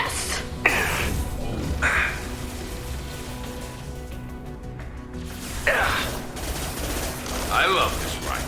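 Rifle fire in the video game Mass Effect 2, several sharp bursts of shots spaced across the stretch over a busy background of game noise.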